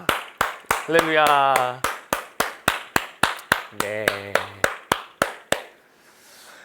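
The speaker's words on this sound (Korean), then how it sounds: "나로부터 우리 주님께 영광의 박수 올려드립시다." A church youth congregation claps in a steady, evenly spaced rhythm of sharp, loud unison claps, with voices chanting over the beat twice before the clapping stops and a soft hush remains.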